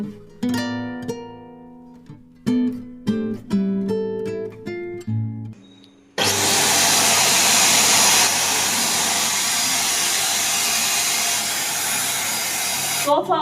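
A handheld vacuum cleaner fitted with a nozzle switches on after some plastic clicking and handling noises, then runs with a loud, steady whooshing roar that continues to the end.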